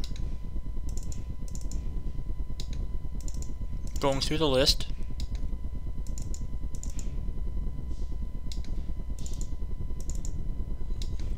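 Rapid computer keyboard typing and mouse clicking while installing Microsoft Movie Maker, close and continuous in quick irregular bursts, with someone speaking briefly over it.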